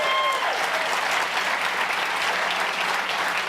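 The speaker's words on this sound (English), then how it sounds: "Give yourselves a round of applause." Sustained applause from a large crowd at a small-business competition finals in Buffalo, a dense, even wash of clapping that holds at full strength throughout.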